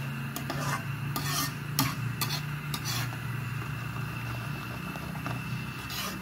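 Coconut milk boiling in a pot is stirred steadily, giving soft scraping and rubbing strokes over a low bubbling simmer, close and continuous with no voices.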